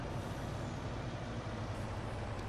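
Truck driving in Farming Simulator 22, a steady, dense engine and road rumble with no breaks, fairly loud and alone.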